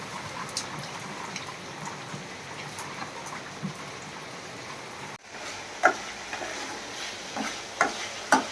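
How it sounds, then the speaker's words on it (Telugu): Grated carrot curry with ginger paste, green chilies and onions cooking in a pan, a soft steady sizzle under scattered scraping clinks from stirring, louder and closer in the second half. "ఈ క్యారెట్ కూర అయితే వండుతున్నాను"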